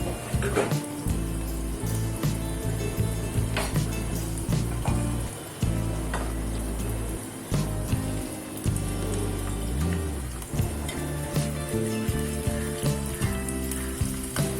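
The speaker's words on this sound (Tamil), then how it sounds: "ஸோ இது ஒன்று ஒன்றா போட்டுட்டு நல்லா கோல்டன் ஃப்ரை பண்ணி எடுத்துக்கலாம்." Popcorn chicken pieces deep frying in hot oil, a dense steady sizzle and crackle with occasional louder pops and bursts, heard close up with no talking.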